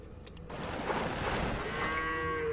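A cow in the real-time strategy game Age of Empires II lets out one long, loud moo that swells and holds, following a few brief clicks from the game interface.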